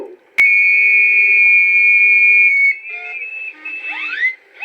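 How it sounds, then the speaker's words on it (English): A loud, sustained steam locomotive whistle blows for a couple of seconds, then other locomotive whistles of different pitches join and slide in a ragged chorus at the 2002 Holcot Steam Festival. "it's the chance to start the chorus of whistles"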